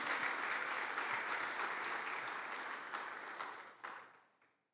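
A church congregation applauds unevenly, a dense burst of clapping that holds steady and then thins out and trails off near the end, with no talking over it.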